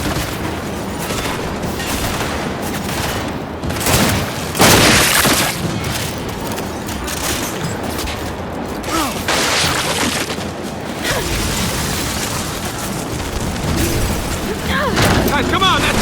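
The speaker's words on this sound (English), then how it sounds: "That turret's ripping us up!" Turret gunfire in a Gears 5 firefight, sustained rattling bursts mixed with heavy booms and impacts, loud and close, with several stronger blasts and voices shouting over the chaos.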